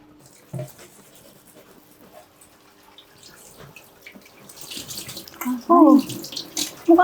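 Water runs from a kitchen sink tap while dishes are washed, starting quietly and swelling louder toward the end with splashing and clatter.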